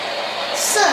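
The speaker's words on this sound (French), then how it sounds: "De l'eau d'une rivière, je dirais." Steady river water ambience played from a sleep sound machine, a continuous broadband rush with a brief brighter swell near the end, fairly quiet and alone.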